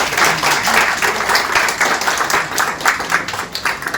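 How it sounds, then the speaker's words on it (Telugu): An audience at a bank retirement function in Warangal claps loudly and continuously for Bujjamma, a dense, even burst of applause filling the whole moment without pause. "ఒక్కసారి బుజ్జమ్మ గారికి మనం గట్టిగా చప్పట్లు కొట్టాలి"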